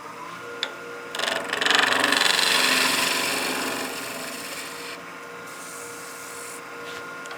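A skew chisel roughs down a wooden spindle turning on a lathe for a German smoker, giving a steady close scraping rasp that swells in the middle and then eases, with no talk.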